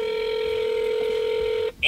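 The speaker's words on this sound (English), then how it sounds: "Give him a call here and see if we can't get him on the phone here." A telephone being used to call a truck giveaway winner: a loud, steady line tone holds, then breaks off into a brief electronic beep at the end.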